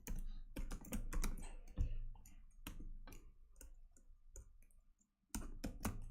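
Fingers tap a computer keyboard in quiet, irregular bursts of crisp key clicks with short pauses between groups. The sound is close and fairly soft, and no one talks.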